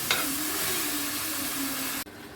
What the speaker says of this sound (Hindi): अब आपने चिकन की जो है ना भुनाई करनी है मसाले में इसकी